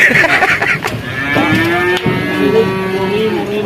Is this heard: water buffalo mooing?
yes